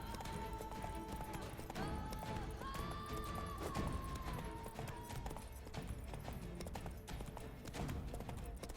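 Hoofbeats from Roach, the horse in The Witcher, fall in a quiet, steady run beneath tonal game music, soft and somewhat distant.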